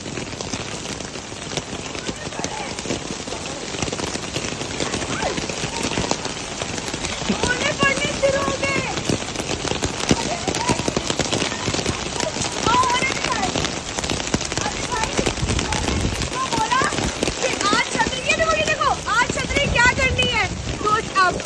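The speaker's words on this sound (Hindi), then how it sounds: "ओले पड़े, ओले पड़े" Hail falls in Karachi as a dense, continuous clatter and hiss that stays loud and steady throughout, with voices faintly mixed in.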